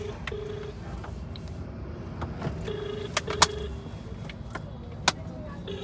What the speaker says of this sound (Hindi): मैं करता हूँ अपने वेंडर को फ़ोन